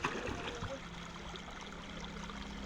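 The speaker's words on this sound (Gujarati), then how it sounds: "અહીંયા પાણી ચાલુ છે જોઈ શકો છો તમે સીણામાં જાય છે અત્યારે પાણી" Irrigation water runs steadily through a farm field's furrows, a soft continuous trickling rush heard up close and at low volume for the whole moment.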